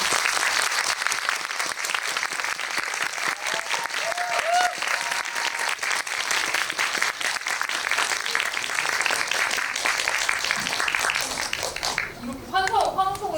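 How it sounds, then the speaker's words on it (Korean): Sustained audience applause at a Korean film screening event (GV) fills the room for about twelve seconds, dense and steady, then thins out as a voice begins speaking near the end. "박수로 맞이해주세요."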